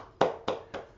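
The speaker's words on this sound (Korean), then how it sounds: "박수, 박수." Four sharp, evenly spaced hand claps, close and moderately loud, with no voices over them.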